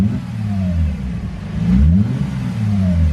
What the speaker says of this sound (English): Go ahead and rev it again.